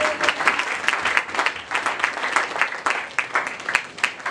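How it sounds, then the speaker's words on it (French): A church congregation claps and cheers for the Lord in steady, lively applause that fills the whole stretch without pause. "Est-ce qu'on peut acclamer pour le Seigneur?"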